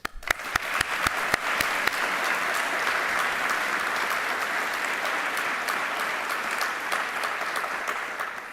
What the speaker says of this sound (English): So a big applause to all of those.